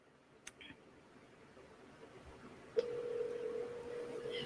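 A phone call rings out from a speakerphone, a steady single tone starting partway through and holding to the end, loud and close over a faint hiss, with a click and brief noise before it.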